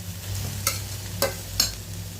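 Mint and coriander leaves sautéing in onion-flavored oil for brinji rice, a continuous sizzle broken by three sharp stirring scrapes of a spatula against the pan.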